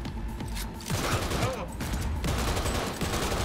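Gunfire in the video game Cyberpunk 2077, with bursts of rapid shots over a dense background of game noise, fairly loud throughout.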